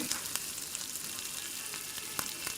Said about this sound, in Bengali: এবার কাঁচামরিচ ও ধনে পাতা কুচিটা ভালোভাবে নেড়ে চেড়ে মিলিয়ে নিচ্ছি